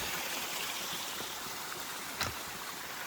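A waterfall spills over the rocky trail descending Mount Garfield, a constant broadband rush of falling water filling the scene evenly, with a brief knock partway through and no voices.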